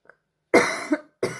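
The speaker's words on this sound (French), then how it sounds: "je tousse maintenant que j'ai appuyé sur play" A woman coughs up close: a tiny throat sound, then a harsh cough with a second catch, followed by another sharp cough cut off at the end.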